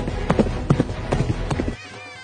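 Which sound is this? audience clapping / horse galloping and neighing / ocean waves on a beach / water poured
horse galloping and neighing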